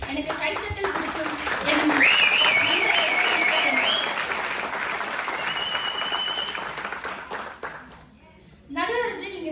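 Audience at a Tamil pattimandram debate stage event bursts into sustained loud applause, dense clapping filling most of the moment before fading, with a voice returning near the end.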